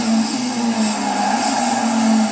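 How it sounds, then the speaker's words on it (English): Race car engines droning steadily in a Cappuccino Trophy League racing game round, with a sustained whine like turbos whistling as the cars brake into the first corner, loud and continuous with no talk. "You'll hear the turbos whistling and the engine braking."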